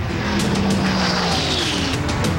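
Funny car drag racers at a race track, a loud continuous roar of high-revving engines with a sustained tire squeal running through the whole stretch, no voices.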